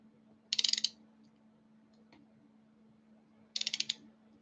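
A ratchet torque wrench tightens cylinder head bolts on an engine build, giving two separate short bursts of rapid metallic clicking against a quiet, steady background hum.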